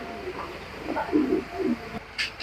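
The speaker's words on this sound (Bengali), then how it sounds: "এই কবুতরটা অনেক শক্তিশালী কবুতর, দূরে রাখা যায় না, অনেক শক্তি" A high-quality racing pigeon gives a few close, clear rolling coos, followed by a brief higher sound near the end, with no one speaking.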